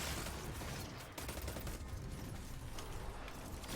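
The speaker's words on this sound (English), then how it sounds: "that really sounds like the Black Armory Scout" Rapid gunfire from a Black Armory Scout rifle in the Destiny video game, a dense, continuous crackle of shots at moderate loudness that fills the whole stretch, with no speech over it.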